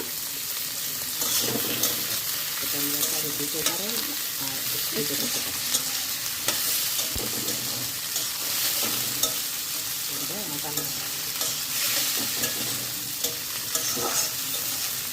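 Food frying in a pan, being stirred well with a sprinkle of turmeric, gives a steady close sizzle with repeated scraping stir strokes throughout, no talking.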